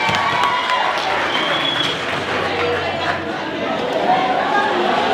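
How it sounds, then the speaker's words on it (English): An audience at a school gala fills the space with dense, continuous applause mixed with crowd chatter and scattered cheers, loud and steady throughout. "A round of applause."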